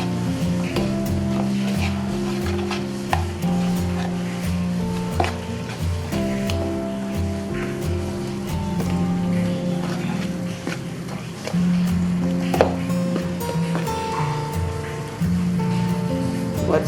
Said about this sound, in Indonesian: Aduk-aduk seperti ini.